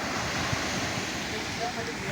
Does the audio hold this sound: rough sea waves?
yes